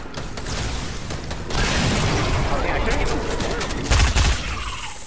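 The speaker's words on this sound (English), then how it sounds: "I heard gunfire west." Rapid bursts of gunfire crackle and boom through dense noise, with a louder blast near the end; faint voices sit underneath.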